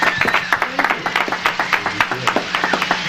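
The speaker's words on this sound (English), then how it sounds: "Let's give them a round of applause" A small audience claps at a local variety show, with distinct rhythmic hand claps close by and fairly loud, and a few voices murmuring underneath.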